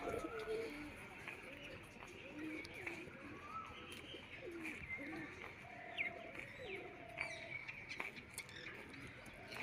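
Pigeons of various breeds coo repeatedly in low, soft rolling calls at a zoo, mixed with scattered bird chirps over a steady outdoor background.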